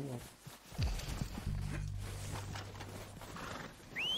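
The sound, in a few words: horse from Red Dead Redemption 2 video game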